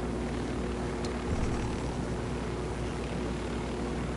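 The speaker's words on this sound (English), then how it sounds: "Okay, there's a helicopter. There's a better helicopter over there." A helicopter in the video game Ghost Recon: Wildlands gives off a steady, broad engine drone with a low whirring hum, constant and moderately loud throughout, with no voices.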